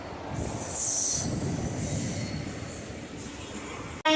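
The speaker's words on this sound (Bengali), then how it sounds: "এখানে ট্রেন আমাদের নামিয়ে দেবে এবং ট্রেন চলে যাবে শিয়ালদা পর্যন্ত" A train leaving Dum Dum Junction for Sealdah rumbles along with a high metallic wheel squeal, the noise loud at first and then slowly easing as it moves off.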